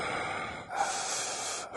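A man imitates a prank caller with heavy breathing, two close, loud, hissing breaths, one drawn in and one pushed out, each broken by a brief pause.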